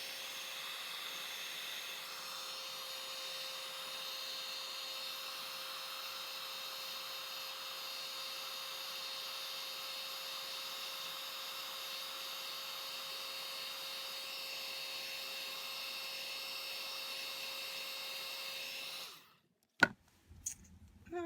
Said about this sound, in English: I'm going to use a heat gun to get that embossing to work.